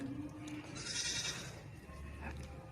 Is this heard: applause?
no